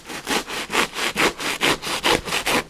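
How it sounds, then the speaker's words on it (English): An old handsaw cuts through a fern mount, about ten rhythmic back-and-forth rasping strokes, close and fairly loud, with no voices. "Just using an old handsaw"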